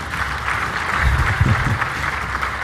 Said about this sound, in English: I think we need to give Josiane another round of applause.